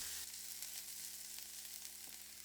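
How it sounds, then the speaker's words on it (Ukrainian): Steady, close sizzling of mushrooms and vegetables frying in a pan over low heat, a continuous crackling hiss with no talking. "смажимо разом з овочами на повільному вогні до золотистого кольору"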